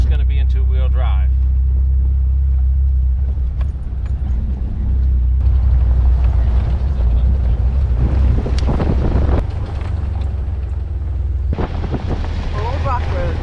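A Jeep rolls along a forest trail in two-wheel drive, with a constant loud low engine and road rumble, heavy wind buffeting and people talking over it.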